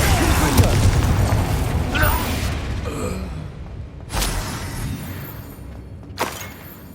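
Confringo fire spells blast in Hogwarts Legacy, with a rumbling burst early on and two sharp booming impacts spaced a couple of seconds apart, each trailing off, alongside other game effects.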